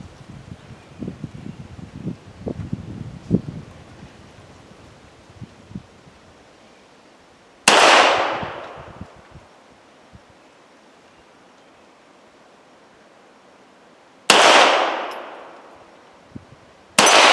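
A Beretta 92FSR pistol fires two loud, sharp shots outdoors, each a sudden blast followed by a long decaying echo, with a third shot starting right at the end and some quieter handling noises beforehand.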